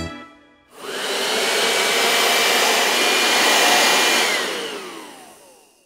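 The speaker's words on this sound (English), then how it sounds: "Can you make a noise like a vacuum cleaner?" A vacuum cleaner starts with a sudden rush and runs at a steady, loud whining roar for several seconds, its pitch sliding slightly as it winds down at the end, with no voices.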